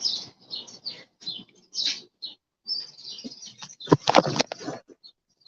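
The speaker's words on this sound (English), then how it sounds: "Y'all hear the birds singing?" Birds sing outdoors in a series of short chirps and tweets, loud and fairly close, with a burst of rustling noise near the end.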